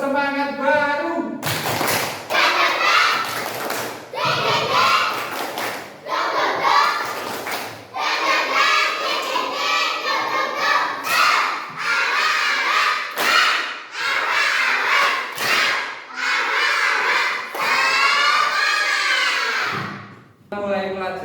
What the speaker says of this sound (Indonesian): marilah kita bertepuk semangat baru